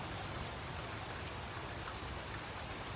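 Steady rain patters and hisses throughout, a dense, even wash of drops falling on surfaces with no voices.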